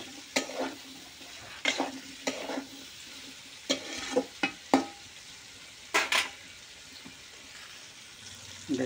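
Tomatoes frying in a pan give a constant soft sizzle, broken by several bursts of scraping as a spoon stirs them, close and clear with no talking.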